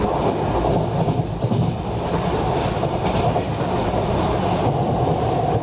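A Vande Bharat Express train runs at speed through a station in Train Simulator, a loud, steady low rumble and rolling rail roar with no talking.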